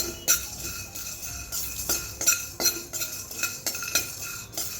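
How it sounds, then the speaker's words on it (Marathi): Whole spices dry-roasting in a pan for turmeric pickle, stirred with a metal spoon that scrapes and clinks against the pan in a steady rhythm of sharp strokes, close and clear with no talk. "अगोदर मी या मसाल्यांना भाजून घेणार आहे"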